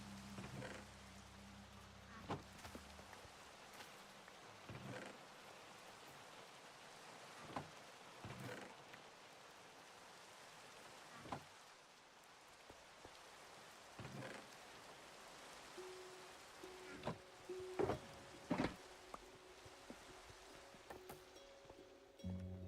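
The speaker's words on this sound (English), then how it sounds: "It's raining again." Steady rain falls in Minecraft, a soft continuous wash that holds level throughout, with a few brief sharper game sounds and clicks over it near the end.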